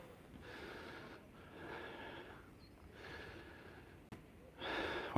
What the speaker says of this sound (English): Well, I'm panting.